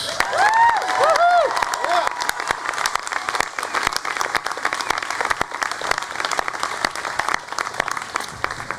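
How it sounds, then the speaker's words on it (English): A convocation audience applauds award winners, with loud, dense clapping and some cheering and shouts at the start, then sustained applause that carries on to the end. "a lusty cheer for all of our award winners"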